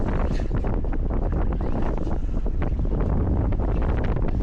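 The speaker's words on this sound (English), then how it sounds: "Super wind." Steady wind buffeting an outdoor microphone, a broad continuous roar with gusty low rumble throughout, recorded while running a TLR-tuned Arrma Typhon RC car; no talking.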